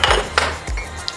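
A small saucer set down on top of a dish of gyoza ingredients gives a few light ceramic clinks and knocks, close and brief, with no talking.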